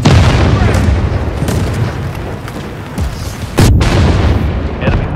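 Rockets blasting an enemy tank in the World War 3 video game, with a continuous roaring rumble of explosions that swells sharply again with a fresh boom near the end.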